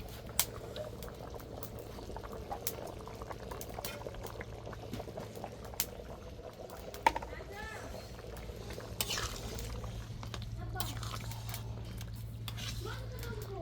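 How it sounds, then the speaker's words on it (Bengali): Potatoes and meat boiling in a covered pot on a stove, a continuous low bubbling with occasional clinks of utensils and pots, someone talking over it throughout. "আলু আর গোস্ত দিয়া ঢেকে দিছে তাড়াতাড়ি সিদ্ধ হয়ে যায়"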